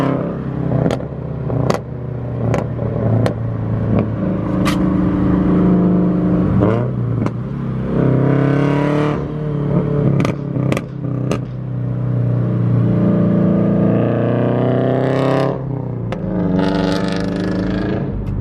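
A loud Scion FR-S engine revs repeatedly through a Tomei aftermarket exhaust, its pitch climbing and falling, with sharp pops and clicks scattered through the roar.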